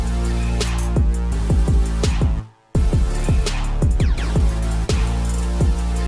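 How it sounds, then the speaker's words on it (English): A song hook played on its own without its counter melody: a loud, bouncy pattern of plucked, percussive notes over a heavy low end, cutting out briefly to near silence midway before resuming. "This is without counter melody."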